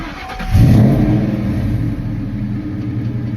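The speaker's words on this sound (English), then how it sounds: "It's a good engine." A Cobra build's engine revs on its first drive, starting as a low idle that jumps to a loud, deep roar at about half a second and then settles into a strong, rumbling drone, close to the microphone.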